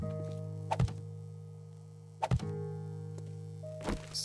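Three heavy, hollow thunks of storage chests being placed in the game 7 Days to Die, spaced about a second and a half apart over a steady low background hum, with no talking.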